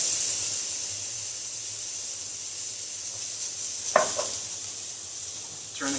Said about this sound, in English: We're just going to turn it over and add just a little bit more oil to our pan.